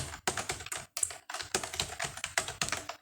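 Rapid bursts of typing on a computer keyboard while an email is written, close and crisp clicking in quick runs separated by short pauses.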